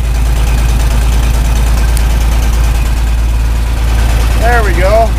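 An engine idles steadily and close up while it warms after a cold start, a loud low rumble that runs throughout, with a brief rising squeal near the end.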